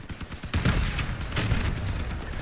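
Cannon fire in the Crossout vehicle combat game: two loud, booming blasts about half a second apart, with a second burst near the middle, over continuous rumbling battle noise.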